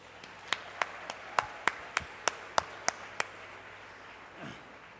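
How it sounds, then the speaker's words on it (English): A few graduates at a science graduation ceremony clap for themselves, about a dozen sharp, separate hand claps in an uneven rhythm over a quiet room, stopping short, followed by a faint low murmur. "You can clap for yourselves."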